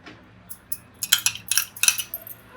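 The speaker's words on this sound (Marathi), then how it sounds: "स्वतः घेऊया चांगला फेटून काय ते गुठळे असतील ते फेटल्याने आपले निघतले" Yogurt whisked in a small bowl for raita, a short run of quick metallic clinks and scrapes of a spoon against the bowl, close and fairly loud, growing brisker after a few light taps.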